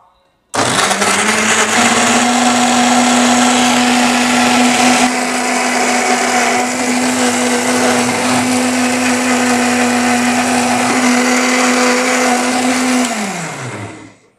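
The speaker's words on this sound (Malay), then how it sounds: "untuk blender ni kita akan blender sampai hancur" A kitchen blender whirs loudly and steadily for about thirteen seconds, puréeing ingredients for a duck dish, then its motor winds down and stops.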